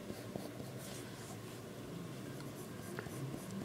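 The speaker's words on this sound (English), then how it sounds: "And yes, I'm using a black coloring pencil." A black colored pencil scratches across paper in faint, continuous strokes, close and soft, with no talking over it.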